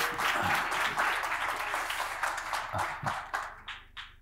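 A tech business conference audience applauds a Huawei digital officer being introduced as a speaker. A broad roomful of clapping is briefly pierced by louder single claps, and it thins into scattered claps near the end.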